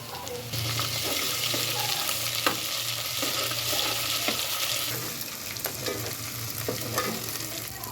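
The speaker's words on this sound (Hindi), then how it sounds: "अब मैं डालने लगी लहसुन और अदरक" Loud, steady sizzling of garlic and ginger frying in a hot pan, close up, with a few clinks of stirring through the hiss.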